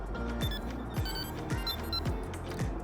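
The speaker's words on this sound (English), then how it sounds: "So if I just change the tone there, make it nice and high pitched, and that replicates that in the alarm." A Wolf carp fishing bite alarm tone rings out on the QR receiver, set high-pitched and repeating in regular pulses about every half second over a background hum.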